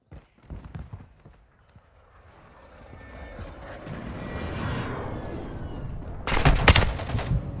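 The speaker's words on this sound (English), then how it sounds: "Hostile airstrike near your location." Video game airstrike: a jet roar swells over several seconds, then a loud burst of rapid gunfire and explosions hits near the end, with scattered shots earlier, all fairly close and dense.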